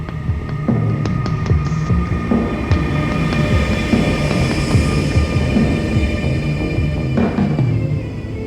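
An ÖBB Railjet 2 high-speed passenger train runs steadily at speed, a continuous loud rumble with rail hum and occasional clicks from the wheels, no voices.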